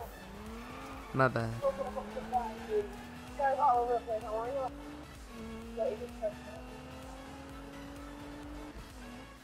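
Need for Speed 2015 cars, a 2017 Nissan GT-R Premium and a Beck Kustoms F132, drift with a steady engine drone and short high tire squeals in several bursts, while a player talks over it.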